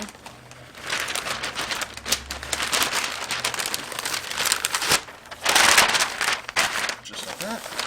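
Butcher paper crinkles and rustles as it is folded over a smoked wagyu brisket, in dense crackling bursts that swell and ease, with a voice speaking in the background.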